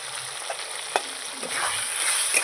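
Salt and turmeric are stirred into lightly fried spices in a pan, giving a steady close sizzle with a few soft spoon scrapes and clicks over a constant background hiss.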